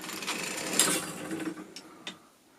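A hand-cranked sock knitting machine turned around, giving soft mechanical clicks and ticking with a few sharper taps, close and fairly quiet.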